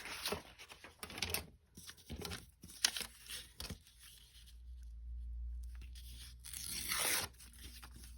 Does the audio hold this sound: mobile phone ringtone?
no